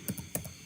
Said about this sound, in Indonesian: Saya tekan tab di keyboard, tab lagi di keyboard.